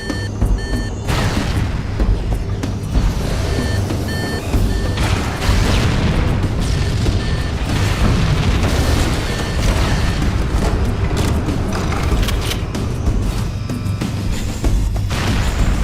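Fusion reactors exploding in Halo: Combat Evolved Anniversary: loud, dense rumbling booms and crashing blasts roll on continuously, with repeated electronic beeps sounding over the din and no voices.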